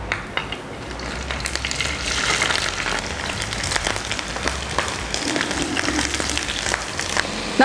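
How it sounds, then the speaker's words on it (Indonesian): Mushrooms frying in plenty of hot oil in a wok crackle and sizzle continuously, with bright popping bursts and a few stirring clatters up close. "Terus kita akan goreng jamurnya tadi."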